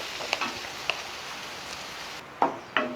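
Onions fry in a pan for Dhaba-style egg masala, a soft continuous sizzle with occasional sharp clicks and scrapes of a spatula stirring.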